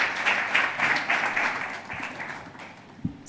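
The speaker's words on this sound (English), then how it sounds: "let's give the moderator and the panelists a round of applause as Lucy takes it over." An audience at a HealthTech investor summit applauds the moderator and panelists, dense clapping that starts strong, then thins out and fades with a few scattered final claps.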